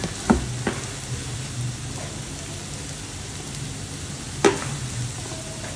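Pieces of drumstick (shevga) fry with masala in a pan, giving a steady close sizzle throughout, broken by a few clinks of a utensil.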